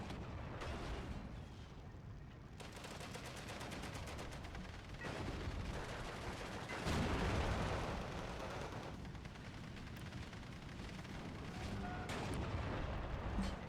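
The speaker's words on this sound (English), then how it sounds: "I think maybe Typhoon coming in here with the machine gun." In a Steel Division II battle, a Typhoon aircraft strafes with its guns amid dense battle noise: rapid bursts and booming blasts rumble continuously at a moderate distance, with a heavier surge near the middle and no talk.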